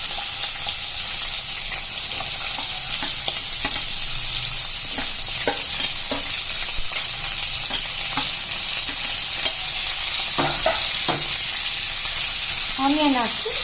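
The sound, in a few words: onions frying in oil, being stirred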